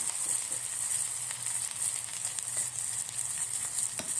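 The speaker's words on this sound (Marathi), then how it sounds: "तर अशा प्रकारे आपला चांगला तडका बसलेला आहे" Asafoetida, turmeric and red chilli powder sizzling in hot oil for a tadka, a steady bright crackling fry heard up close with a few faint clicks and no voices.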